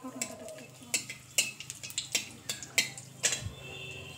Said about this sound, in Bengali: এগুলো ভালোভাবে একটু নাড়াচাড়া করে নিয়ে কয়েক সেকেন্ড।